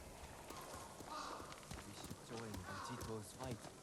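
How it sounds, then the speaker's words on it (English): Horse hooves clip-clop in a steady walking rhythm in the video game Ghost of Tsushima. The hoofbeats sit partly under game characters' speech. "You're a good horse, Nobu."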